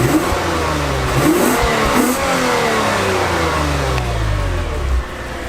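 A 2021 Lexus IS 350 F Sport, 311 horsepower, revving hard up through its range, a loud close engine note climbing and falling in sweeps before settling lower.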